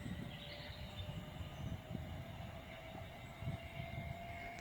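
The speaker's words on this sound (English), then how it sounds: "approaching now we have a freight inbound" A freight train passes on the West Coast Main Line at Hartford: a faint, continuous rumble of wheels with thin, sustained high ringing tones, and no voices.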